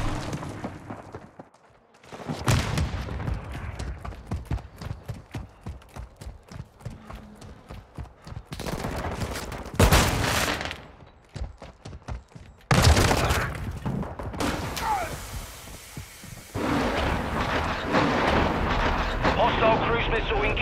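Gunfire and explosions in the video game Call of Duty: Modern Warfare II, with rapid bursts of shots, heavy booming blasts and dense battle noise. Game radio voices call out over the combat.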